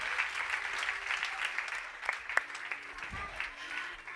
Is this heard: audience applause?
yes